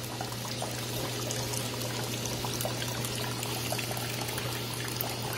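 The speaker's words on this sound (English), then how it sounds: "you can pour the detergent straight in the tub" Liquid detergent pours steadily into the tub of a compact Laundry Alternative Poseidon washer, a continuous close splashing stream over a low steady hum.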